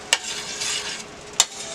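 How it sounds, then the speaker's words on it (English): A spoon stirs Italian seasoning into chicken fettuccine Alfredo sauce in a Steelmade pan: a soft, continuous swishing under a faint sizzle, with two sharp clicks of the spoon against the pan, no speech. "I'm going to stir that up in there"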